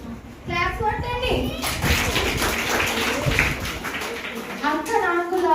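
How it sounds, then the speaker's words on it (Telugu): Children at an outdoor summer camp break into a burst of clapping that lasts a few seconds, mixed with excited kids' voices before and after. "క్లాప్స్ కొట్టండి."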